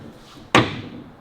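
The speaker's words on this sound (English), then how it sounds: "The boot lid folds out" Boot lid of a 1934 Austin 10 Clifton two-door car folding shut, a single sharp close thump that rings out briefly against a quiet background.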